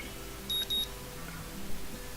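An alarm clock in the game Katawa Shoujo gives two quick high electronic beeps, faint over steady background hiss.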